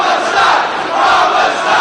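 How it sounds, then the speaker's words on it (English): A wrestling crowd in Detroit cheers for Homicide, a loud, dense arena roar of voices that swells and surges continuously in waves. "Crowd getting behind Homicide here in Detroit as Daniels pounds away on the back."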